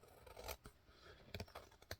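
Scissors trimming the edge of a paper folding journal card, giving several crisp snips: one near the start, a cluster of quick cuts toward the end, and a final snip, close up and fairly quiet.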